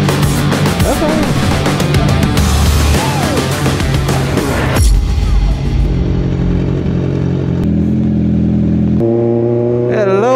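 A Vespa scooter that has sat unused is revved hard in place to warm its tire, a loud, rising and falling engine whine with sharp throttle blips, steady near the microphone and ending in a high rev.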